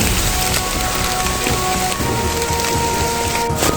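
Heavy rain pours down steadily on a mountain trail campsite, a dense, loud, continuous roar of drops striking surfaces with no talking.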